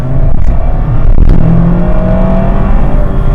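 A 2024 Mazda MX-5 Miata RF GT accelerates with a loud, steady engine drone that climbs in pitch, heard close from inside the car with no speech.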